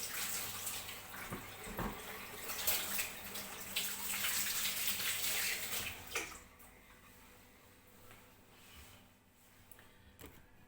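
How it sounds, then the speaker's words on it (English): Hands being washed under a running tap, a steady broadband splash and gush of water that fills the first six seconds, then drops away to a quieter trickle and near silence. "Just wash my hands."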